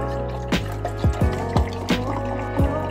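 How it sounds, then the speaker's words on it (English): Strawberry lemonade poured into a glass in short bursts, with distinct splashing drips and gurgles close to the microphone over a faint steady hum. "Let's pour this in the cup."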